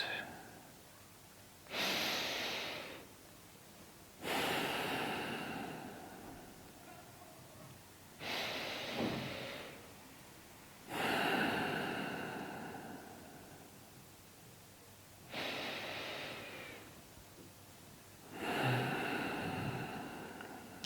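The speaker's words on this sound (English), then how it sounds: "close your eyes and take slow, rhythmic breaths" Slow, rhythmic breathing during meditation: about six long, airy breaths at evenly spaced intervals, each swelling and fading with quiet pauses between, heard close and soft with no talking.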